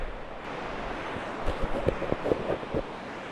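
Waves wash onto a dark-sand natural cove beach at Shaldon, Devon, a continuous soft surf wash with wind noise and a few brief thumps partway through.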